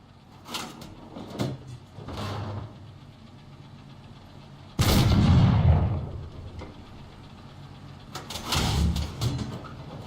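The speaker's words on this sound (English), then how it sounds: "Fire off your current shell to load the new type of shell that you've switched to." A single heavy tank cannon shot in the video game War Thunder, a sudden loud boom with a decaying rumble, set among quieter engine noise and mechanical clanks before and after.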